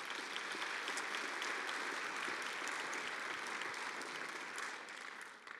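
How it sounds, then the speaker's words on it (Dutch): Steady, dense applause from a seated audience at a university psychology symposium in Tilburg, continuous and even throughout, easing slightly toward the end. "En geeft u hem ook een hartelijk applaus"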